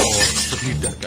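A wall clock bursts apart like a bomb in a cartoon horror scene, giving a sharp shattering crash with glassy clinks as it falls to the floor, while a narrator speaks over it.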